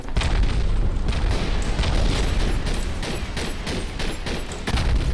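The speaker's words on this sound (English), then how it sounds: "Kermit got us again with the mortar" Mortar shells bursting in a World War I trench-warfare shooter, Verdun, with repeated loud booming explosions and battlefield rumble filling the whole stretch, dense and continuous, no talk.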